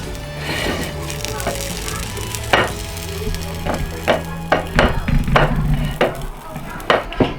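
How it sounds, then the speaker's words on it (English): Chicken pieces sealed in a hot pan for a Nando's-style chicken wrap, a steady sizzle with repeated sharp clacks and scrapes of a utensil against the pan over a low background hum. "place it on a pan to seal it off"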